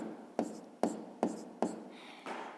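Pen writing numbers on paper during a sixth-grade maths exercise, heard as four short crisp scratchy strokes in steady rhythm followed by a softer longer stroke, close and alone with no talk.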